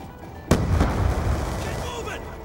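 Frag grenade explosion in Call of Duty Black Ops 2, a single sharp loud blast followed by a rumbling roar that slowly fades, with battlefield noise and voices underneath.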